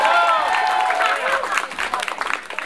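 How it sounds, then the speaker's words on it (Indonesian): Audience applause at a live concert, dense clapping with cheering voices over it, loud at first and then thinning slightly toward the end. "tepuk tangan buat Dimas."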